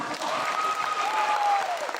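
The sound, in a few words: audience applause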